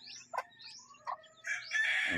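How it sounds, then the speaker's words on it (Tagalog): A rooster crows nearby, with a few short clucks and chirps before a long, loud crow at the end. "Manok ni Bioli"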